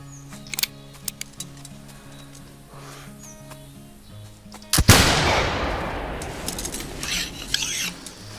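One loud rifle shot is fired at an animal while hunting in theHunter Classic, a sudden crack with a long rolling echo that fades slowly, after a quiet stretch of faint clicks and soft tonal ambience.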